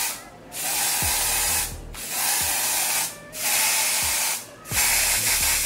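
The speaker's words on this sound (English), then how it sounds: "I'm gonna go ahead and use my even tinted lace spray." A tinted lace spray can hisses in four long, even bursts with short pauses between them, close and fairly loud, with faint clicks as the nozzle is pressed, sprayed onto a lace frontal wig.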